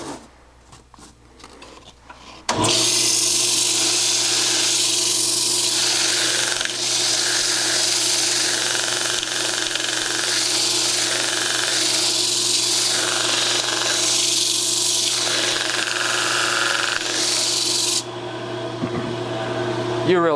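Hand sanding of a cherry burl wood bowl with 80 grit sandpaper, a steady, loud, continuous rasping scrape that runs for most of the stretch after a quieter start, then drops off near the end.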